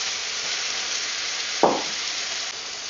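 Squid sizzles steadily in a hot pan with a soft, continuous hiss, broken once by a brief scrape and burst of louder frying as it is stirred.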